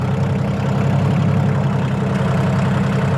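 A diesel loader tractor with a three-speed high, medium and low transmission idles steadily nearby, a constant low rumble with a rhythmic engine chug and no pauses.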